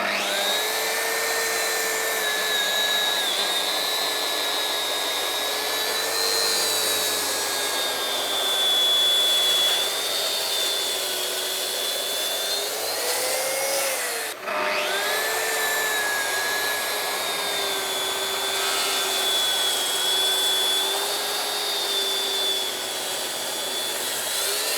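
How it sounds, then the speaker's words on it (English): A Bosch track saw cuts through an oak live edge slab, a loud, steady high-pitched whine that runs without a break, dips briefly midway, then carries on. "I'm just going to use a track saw now and chop this pieces off that I don't need."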